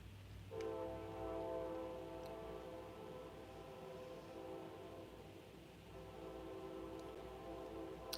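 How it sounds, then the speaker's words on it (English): A train horn sounds in the night, long sustained tones holding steady across several seconds over a low rumble of the passing train, fairly loud and close with no talking. "You do hear a train."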